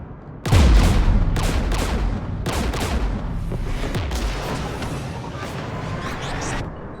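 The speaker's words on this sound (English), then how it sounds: "We're taking fire." Heavy gunfire in Mass Effect Legendary Edition during a battle near a jamming tower, opening with a loud boom followed by sustained rapid bursts and repeated shots that continue with little pause.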